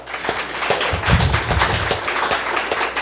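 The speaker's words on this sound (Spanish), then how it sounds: "¿No le da un aplauso al Señor," Spanish-speaking church congregation applauding during a sermon, a loud, continuous round of clapping with scattered sharper claps standing out, close and dense for a few seconds.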